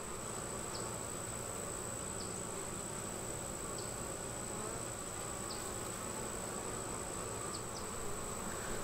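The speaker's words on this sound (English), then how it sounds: "There's another bee climbing right up through the bottom." Honey bees buzz in a steady, dense drone at a beehive guardian entrance, with a constant hum close by and a few faint higher insect flickers passing through.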